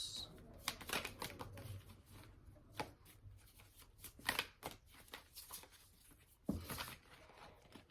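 A deck of cards being shuffled, soft quiet riffling and flicking with irregular sharp ticks and clusters of snaps, close and faint.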